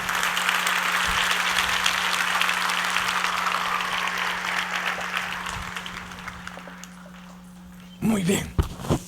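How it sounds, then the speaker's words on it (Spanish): Loud, sustained applause from a church congregation at a Friday service, a dense steady clatter of clapping that fades toward the end before a brief burst of voices. "Le va a poder dar un aplauso fuerte al Señor todavía."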